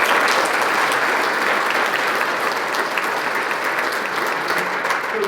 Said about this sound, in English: we'll get a round of applause for each one of the assistants.